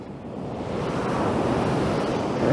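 Sea waves wash onto a beach in Budva, Montenegro, a steady close rush of surf with wind buffeting the microphone, swelling slightly toward the end, with no talking.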